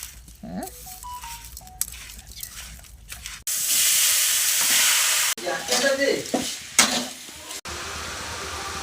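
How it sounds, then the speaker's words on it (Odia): Sweet coconut and chhena filling frying and being stirred in a pan, a steady close sizzle with scraping strokes and bursts of hiss, loud and continuous with brief pauses. "ମିଠା ନଡ଼ିଆ ପୁରା ଆମର ଭଜା ହେଉଛି"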